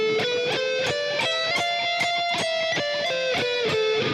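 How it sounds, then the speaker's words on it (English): Electric guitar played with a fast sweep, economy-picking run using a doubled note in a down-up-down stroke, giving a quick series of bright, evenly spaced plucked notes heard alone and up close. "That's a sweep, or economy picking."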